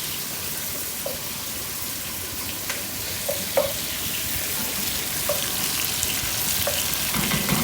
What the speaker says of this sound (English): I know it's getting a little loud with the fans and with the onions that are going